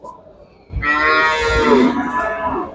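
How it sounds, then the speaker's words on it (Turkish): Cattle at a livestock market low in a long, loud moo that begins after a quiet start and carries on for about two seconds, close and clear. "burada gelen bir dana 520 kilo geldi"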